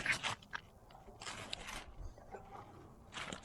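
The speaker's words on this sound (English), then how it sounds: "The leaves are nice and crunchy." Crunchy dry plant leaves handled during a fall garden harvest, a few sharp crackling crunches in short bursts with quiet gaps between.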